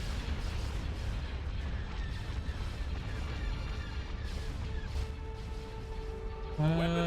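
Artillery fire in the space strategy game Empire at War, Thrawn's Revenge, a dense continuous rumble of distant booms and blasts, with a brief tonal game sound near the end.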